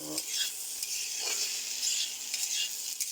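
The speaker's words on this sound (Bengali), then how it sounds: "এটাকে এবার শুধু একটু লাল লাল করে ভাজবে" Potatoes frying in a pan with just salt, browning, giving a steady close sizzle with a few stirring scrapes throughout, no voices.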